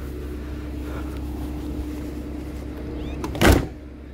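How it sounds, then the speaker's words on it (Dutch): A small, heavy door on a train opens or closes with one sharp, loud thud near the end, over a steady engine-like rumble and hum. "Nog een zwaar deurtje."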